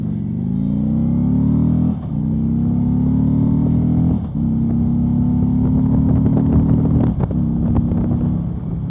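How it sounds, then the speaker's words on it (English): A 2014 Harley-Davidson Street Glide Special motorcycle engine revs up through the gears, loud and close. Three rising pulls of engine drone each break off with a short dip at a gear change, and a fourth pull carries to the end. "The Harley definitely seems to rev quicker than the Indian"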